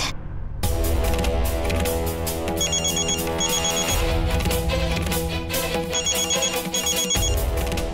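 A phone ringtone plays loudly and continuously through a Hindi TV drama scene, a bright repeating melodic tone pattern sitting over a steady musical bed with no talking.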